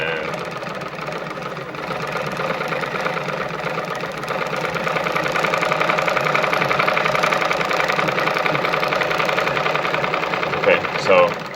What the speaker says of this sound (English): That's how you wind your bobbin